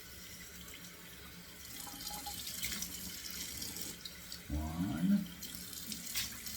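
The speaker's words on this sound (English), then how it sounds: "Yep, running cold, so I gotta get 2 splashes" Cold water running from a tap into a sink, a soft steady stream that grows louder with splashing partway through, with faint room noise.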